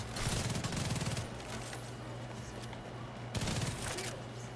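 Rapid automatic rifle fire from a high-RPM weapon in The Division 2, two dense bursts of loud, close shots separated by a quieter stretch of game ambience.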